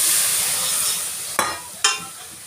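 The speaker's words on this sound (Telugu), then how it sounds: "ఇలా పాలు పోసిన తర్వాత బాగా కలుపుకోవాలి." Milk being stirred into a thick paste for white sauce pasta in a pan, a steady soft scraping and sloshing with two sharper clinks of the spoon against the pan near the end, close and moderately quiet.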